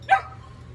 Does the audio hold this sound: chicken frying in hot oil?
no